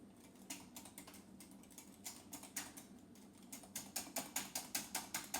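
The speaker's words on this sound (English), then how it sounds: "I'm going to stir that up good" Batter mix of almond and coconut flour stirred in a bowl, giving quiet, rapid, rhythmic scraping clicks that speed up and grow louder toward the end.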